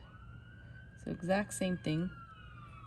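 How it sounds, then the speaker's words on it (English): A distant siren holds a faint, steady wail in the background while a person speaks briefly over it. "Sorry for the sirens."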